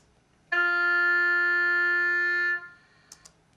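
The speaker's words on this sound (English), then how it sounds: "So if Chris plays an F natural, it will sound like this." A single sustained oboe note, an F natural, steady and clear for about two seconds before releasing, followed by a couple of faint clicks.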